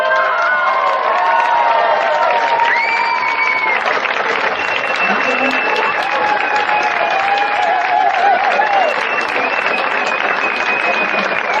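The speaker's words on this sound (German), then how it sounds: "empfangen Sie mit einem ganz, ganz warmen Applaus Bastian Kampmann von Kassel" A big audience at a Funky Marys anniversary show greets a performer with loud, continuous clapping and cheering, with whoops and shouted voices rising over the steady roar.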